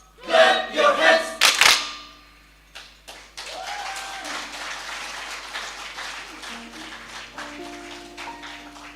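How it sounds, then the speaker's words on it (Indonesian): Audience at a choir performance clapping hands, beginning after loud shouted singing and then carrying on as steady applause with scattered cheers until the end. "Clap your hands."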